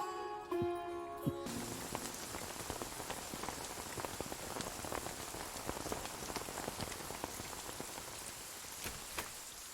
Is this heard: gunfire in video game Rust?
no